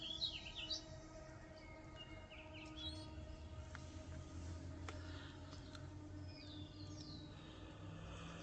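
Faint bird chirps come and go far off, heard over a steady low rumble of distant traffic.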